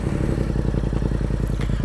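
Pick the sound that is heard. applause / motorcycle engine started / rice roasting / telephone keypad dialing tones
motorcycle engine started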